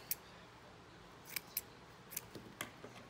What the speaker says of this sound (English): Cut this off.